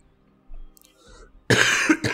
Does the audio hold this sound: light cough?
yes